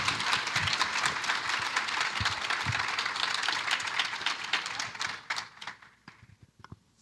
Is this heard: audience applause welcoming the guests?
yes